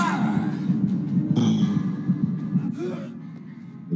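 The killer's heartbeat thumps in Dead by Daylight as a steady, loud, low rhythmic pounding that throbs continuously under brief bits of voice and game noise.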